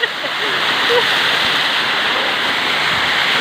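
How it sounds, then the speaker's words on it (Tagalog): Mabonao Falls, a waterfall, pours as a loud, steady broadband rush that fills the whole stretch, with faint voices mixed underneath. "You can visit here at Mabonao Falls."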